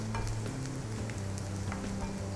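Chopped garlic frying in oil in a pan, a steady close sizzle with occasional stirring scrapes and no voices.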